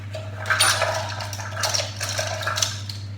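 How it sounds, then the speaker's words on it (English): A teaspoon scrapes and clinks against a bowl while cream cheese is stirred into egg yolks, with soft repeated scraping strokes over a steady low electrical hum. "I'm mixing this in with the egg yolks"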